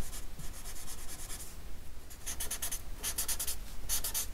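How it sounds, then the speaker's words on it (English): Pencil drawing on paper being smudged with tissue paper or cotton buds: steady rhythmic rubbing strokes in quick bursts, close and fairly soft, with no talking. "Now we can use a smudge stick or your tissue paper or the cotton buds for some smudging."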